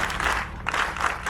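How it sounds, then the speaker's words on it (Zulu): A crowd at a motivational talk for matric students in Jozini claps in a short, dense burst of applause, loud and close. "ngisacela ningishayele ihlombe lapho"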